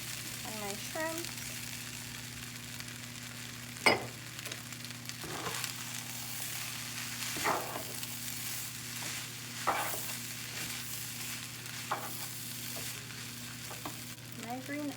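Shrimp frying in a wok or pan for Chinese shrimp fried rice, a constant close sizzle broken by repeated sharp scraping stirs every couple of seconds, with no talking.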